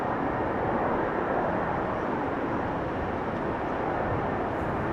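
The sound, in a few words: airliner using thrust reversers after landing at Schiphol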